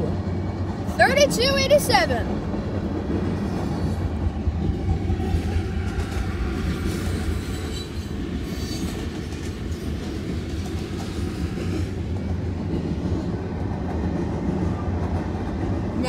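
A loaded CSX mixed freight train led by locomotives 907 and 72, with a mid-train DPU, rumbles steadily past close by in Kingston, New York, wheels clacking; a horn-like tonal burst sounds near the start and someone speaks over it.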